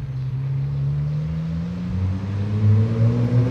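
A car engine revs hard and climbs in pitch as the vehicle approaches, loud and steady throughout, with a deeper second engine tone joining underneath toward the end.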